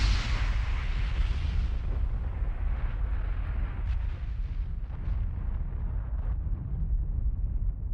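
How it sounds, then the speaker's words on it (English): A fire sample for building a bomb explosion effect: a loud, rushing roar with heavy low rumble, a bright hiss that fades in the first seconds, then sustained turbulent burning with faint crackles. "Okay, so I grabbed the fire sample from my"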